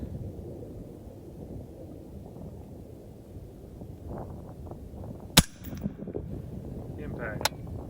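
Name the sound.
rifle shot at long-range target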